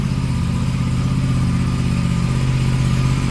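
A seven-month-old Aprilia 457 motorcycle engine running just after starting, a steady low throbbing idle heard close and loud with even pulsing throughout.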